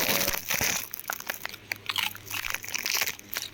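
A pet dog bites and crunches its food with quick, close crisp crunches in uneven bursts, a low steady hum running underneath.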